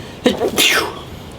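A single sharp human sneeze indoors, a quick intake followed by a loud burst, close and clear with a quiet room behind it.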